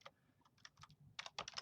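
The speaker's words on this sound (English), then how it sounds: "I'm really struggling with typing today" Quick, irregular keystrokes on a computer keyboard, faint and close, in short bursts of clicks with brief pauses between them.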